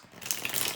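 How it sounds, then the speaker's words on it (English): A deck of tarot cards is shuffled briefly and quietly, giving a soft, quick riffling flutter that builds into a dense papery rattle over under a second, with no talking. "the way I was shuffling the cards, it wasn't going exactly to plan"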